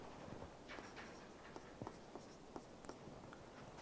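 Quiet scratchy pen or chalk strokes writing on paper or a board, a series of short irregular taps and scrapes over faint room hiss.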